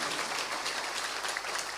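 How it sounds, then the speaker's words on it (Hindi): An audience at a Hindu religious discourse in Indore claps together, a dense, even wash of applause held steady throughout with no break. "एक बार अच्छी ताली बजा करके बालक के उत्साह का अभिवर्धन करिए।"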